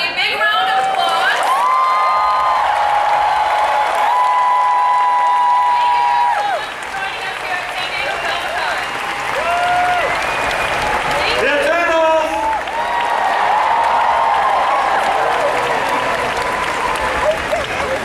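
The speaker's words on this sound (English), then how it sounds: "Everybody, big round of applause." A large crowd in Hall H at San Diego Comic-Con 2019 claps and cheers through a sustained roar of applause, with an amplified voice speaking over it in a big hall.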